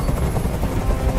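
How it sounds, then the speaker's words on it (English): Steady, loud helicopter rotor thumping with a dense low rumble, continuous and close, a game sound effect from Detroit: Become Human. "Tell that helicopter to get out of here!"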